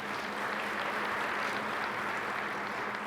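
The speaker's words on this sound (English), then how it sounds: "Let's give them a round of applause." Steady, dense audience applause at a scholarship awards celebration rolls on for a few seconds, even and continuous throughout with no break.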